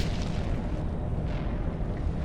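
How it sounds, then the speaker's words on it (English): A continuous, heavy rumbling roar from a video game explosion and seismic collapse as ruins cave in, loud and dense throughout without a distinct single blast. "It was an explosion"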